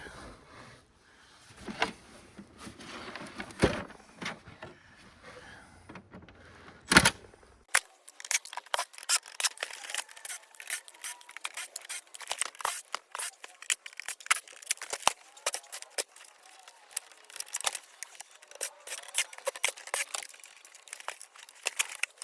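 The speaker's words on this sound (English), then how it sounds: "there's a pile of screws in this thing, so I'm just going to fast forward and get all the screws out of this casing" Screws are removed from the casing of a Venturer 3 CD cassette bookshelf stereo, giving scattered small clicks, rattles and metallic taps that are quiet at first and then come in a rapid, dense series of sharp ticks.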